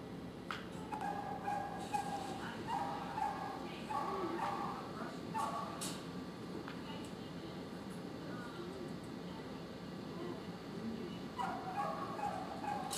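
A caged dog gives repeated whimpers, yips and short barks in bursts across the clip, moderately near, mixed with background noise and some human voices.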